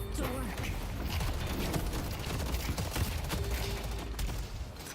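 Rapid gunfire in the video game Deadlock, bursts of shots crackling steadily through a dense, noisy fight mix with music and effects underneath.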